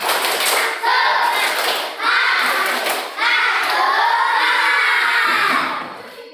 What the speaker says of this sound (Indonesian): Sebelum nyanyi kita tepuk semangat dulu. Yuk, tepuk semangat.